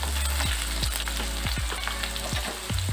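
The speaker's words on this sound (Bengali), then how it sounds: "হালকা করে একটু ভেজে নেব, আলুটা হালকা করে ভেজে নিয়েছি" Potatoes fry lightly in hot oil with a steady, close sizzle, and a few soft clicks of a spatula or pan land throughout, with no talk.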